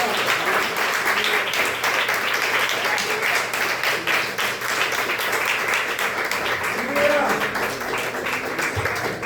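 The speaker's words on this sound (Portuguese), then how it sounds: "Aplauda o nome dele nessa noite." A church congregation applauds during an evening service, a sustained wash of clapping with scattered voices and cheers rising through it, continuing for several seconds.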